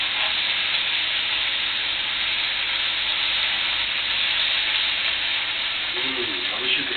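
Beef roulade fries steadily in a hot pan with a constant, close sizzle and hiss, with faint stirring and utensil movement near the end.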